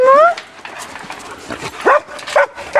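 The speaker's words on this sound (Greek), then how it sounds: "Πρώτα τον Ομπάμα που γαυγίζει" A pet dog at a family home gives a few sharp, close barks and yips in quick bursts, spaced out with brief pauses, while a person talks nearby.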